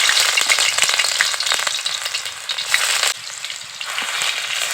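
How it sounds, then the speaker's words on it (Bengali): Onion paste frying in hot oil in a pan gives a loud, close, steady sizzle with crackling pops, dipping briefly near the end before continuing; no voices. "তেলের মধ্যে পেঁয়াজ বাটা দিয়ে দেবো সবার প্রথমে"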